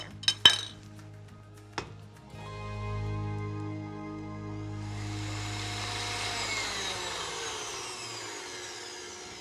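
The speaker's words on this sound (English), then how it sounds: "I'm gonna start beating the butter" An electric hand mixer starts up and whirs steadily while beating unsalted butter for an Edam cheese poundcake, after a few sharp clinks of utensils against the bowl at the start.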